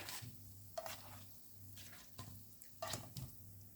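Yeast pancakes frying in a shallow layer of oil in a pan, a soft steady sizzle broken by a few brief scraping and clinking kitchen sounds, with no voices.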